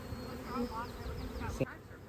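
Honeybees buzz around hive frames, an agitated, droning hum with a few passing insects flying close, steady and moderately faint throughout.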